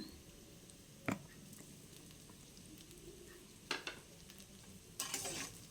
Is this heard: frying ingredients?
yes